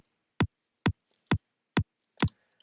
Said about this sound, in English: The first one is a top kick with all the low end taken out